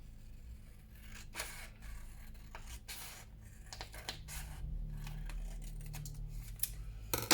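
Scissors cut through card for a homemade postcard in a series of short, sharp snips and crisp crunches close by, with pauses and handling noise between cuts.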